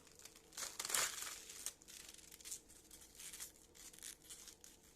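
A knife cuts into a head of cabbage being prepared for stuffed cabbage rolls. It gives a close, crisp crunching and crackling, loudest in one burst near the start, then softer scraping cuts. No one speaks.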